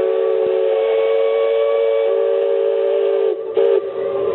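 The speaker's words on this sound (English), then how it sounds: "that one was the whistle from the Liberty Bell, which is the riverboat that goes around the rivers of America" A steam whistle on the Liberty Bell riverboat, which circles the Rivers of America at Walt Disney World's Magic Kingdom, gives one long, loud, steady blast. It dips briefly near the end and then sounds again, with nothing else heard.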